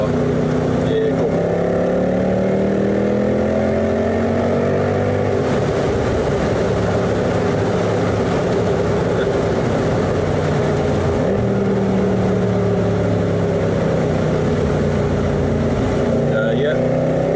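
A Mercedes SL63 AMG V8 runs through a tunnel with the roof down, its loud sustained engine drone echoing and rising and falling in pitch as it revs, with wind rush throughout.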